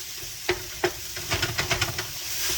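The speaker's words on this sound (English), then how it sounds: "Stir this sausage around." Sausage sizzles steadily in a hot pan while a utensil stirs it, making a series of sharp scraping knocks that come closer together toward the end.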